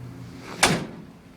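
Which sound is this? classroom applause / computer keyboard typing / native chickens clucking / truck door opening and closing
truck door opening and closing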